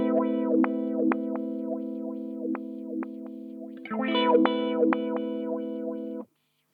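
Guitar through a Zvex Super Seek Wah pedal set to hard steps, giving a choppy, glitchy sequence of abruptly switching filtered tones, with a denser burst of stuttering steps near the end before a sudden cutoff.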